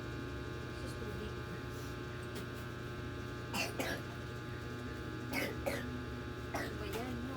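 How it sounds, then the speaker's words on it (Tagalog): A person coughs indoors in three short bursts spaced a second or two apart, each a sharp, close hack over a steady low electrical hum. "Inuubo ka?"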